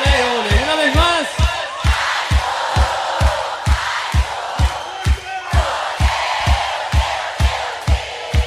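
A live concert crowd at a Latin music show chants olé in unison, voices swelling and falling in rhythmic waves over a steady thumping drum beat, with loud cheering and whoops layered on top.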